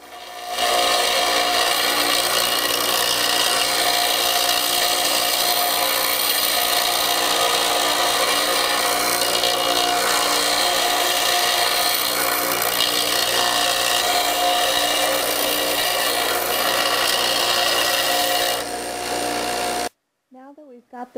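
A power tool cuts through part of a metal Mullen Pelham horse bit with a loud, continuous, harsh grinding whine that holds steady for most of the stretch and then stops abruptly near the end.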